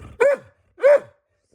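A pet dog gives two sharp, close barks about half a second apart, with silence between and after.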